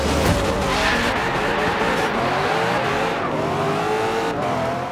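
A Dodge Viper race car in the Forza Horizon 3 video game roars loudly throughout a street race at Silver Sands Speedway, its engine whine rising and falling while the tires squeal and skid continuously.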